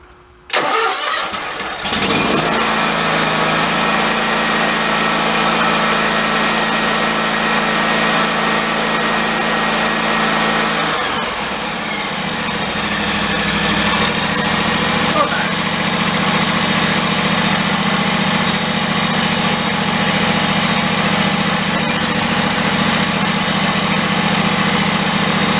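A John Deere riding mower engine is cranked with throttle and a little choke; it catches after a brief crank and settles into a loud, steady close-up idle that continues through to the end.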